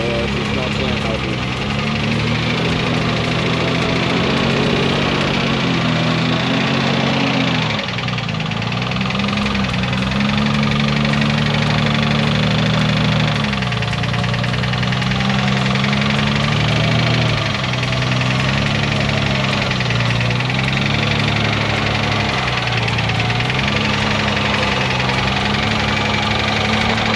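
A blown Nissan Patrol engine running roughly with a persistent deep knock, a loud close rhythmic clatter over a steady idle for nearly half a minute, with people talking over it.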